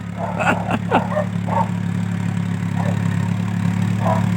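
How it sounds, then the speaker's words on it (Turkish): A tractor engine on a village road gives a steady, droning low hum throughout, with voices talking briefly over it near the start. "Traktör."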